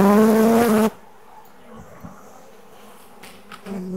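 A close, loud buzz of honeybees being scooped by the cupful for queen rearing, for about a second, cutting off abruptly into quiet with faint scattered rustling and taps.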